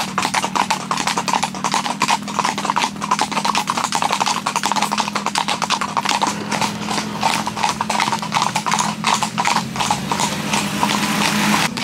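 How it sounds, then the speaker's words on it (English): Horse hooves clip-clop steadily in a quick, even rhythm during a trail ride in the Dominican Republic, sounding close and prominent over a constant low hum. "now we're about to go on these horses for about an hour, have a nice chill ride"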